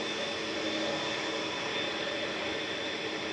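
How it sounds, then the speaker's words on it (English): A steady jet roar rolls from a TUI Boeing Dreamliner airliner at Manchester Airport, a constant broadband engine drone heard at moderate distance with no speech. "We've also got this TUI Dreamliner."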